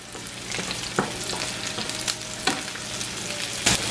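Banana blossom sautéing with curry leaves over medium heat sizzles steadily, broken by a few louder stirring clatters and scrapes in the pan, with no talk.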